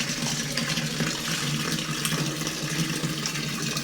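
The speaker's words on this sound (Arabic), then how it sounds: "بس بملى البرميل" Tap water pours steadily into a barrel at a poultry house, a continuous loud rushing hiss with no pauses and no talk.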